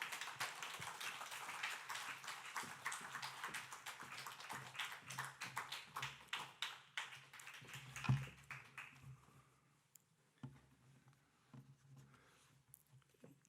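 A church congregation at a peace prayer meeting in Seoul applauds a church elder. Many hands clap fast and steadily at close range, then the applause thins into scattered claps and dies away toward the end.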